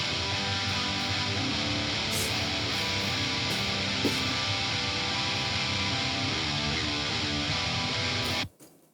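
Heavily distorted electric guitars play through X-Effects and GZD Zilla cabs with the master EQ on, a dense, loud, continuous wall of chugging riffs that cuts off abruptly near the end.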